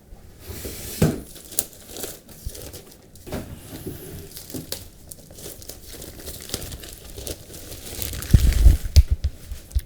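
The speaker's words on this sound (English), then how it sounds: "I'm just going to take it out of the box and remove the packaging" Crinkling plastic and cardboard packaging as a Sony PlayStation 4 console is unpacked from its box, with intermittent rustles and tearing, then a louder burst of crumpling and bumping near the end.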